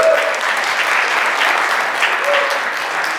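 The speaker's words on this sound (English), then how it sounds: "A round of applause for Derek." Audience applause fills a theater, a steady dense wash of many hands clapping throughout at fairly close range, with no voices over it.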